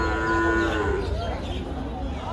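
A meat buffalo at a livestock market lets out one long, loud, drawn-out moo close by, with the crowd's rumble behind it.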